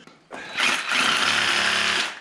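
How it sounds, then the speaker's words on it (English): A ratchet on a junkyard tie-down buzzes in a fast continuous run of clicks as it is tightened, close and fairly loud for about two seconds. "Oh, that's why it ratchets."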